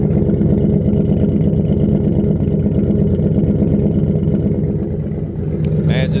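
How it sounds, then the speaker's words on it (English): Ford Crown Victoria with an exhaust leak idles close by, a loud, steady low rumble with a continuous rough throb, ending in a brief higher whine. "But you guys can hear this exhaust leak."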